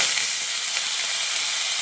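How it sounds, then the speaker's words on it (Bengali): Potatoes and drumstick stems fry together in leftover oil in a kadai, giving a close, even hiss of bubbling oil that holds steady throughout. "এবার আলু আর ডাঁটাটাকে একসঙ্গে করে ভেজে নিচ্ছি।"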